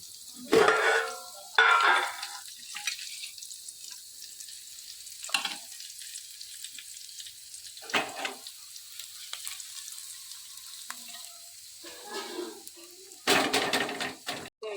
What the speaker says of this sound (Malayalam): ഇത് നമ്മൾ സിമ്മിൽ വെച്ചിട്ടാണ് വറുത്തെടുക്കുന്നത്